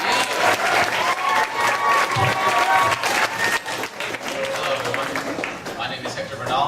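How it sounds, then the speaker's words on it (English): Audience applause welcoming a performer at a poetry night, many hands clapping fairly close and loud, with voices and cheers mixed in throughout. "please welcome with a big, nice round of applause"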